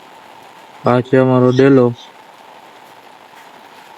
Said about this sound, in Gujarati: ધોધોકાર વરસાદ આવે છે, તમે જોઈ શકો છો